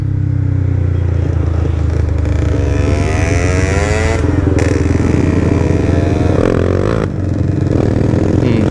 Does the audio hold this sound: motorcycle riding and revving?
yes